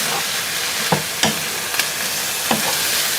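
Cabbage being stir-fried in a hot pan, a steady sizzle with a few sharp clinks and scrapes of the utensil as it is stirred, close and alone.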